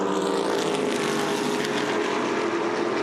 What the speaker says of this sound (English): It's a full race for the Formula 5000s here.